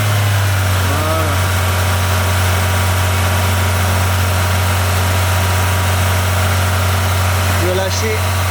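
A car engine runs steadily close by with a strong low drone, holding a fairly even pitch with slight rises as the driver presses the accelerator, while people talk over it.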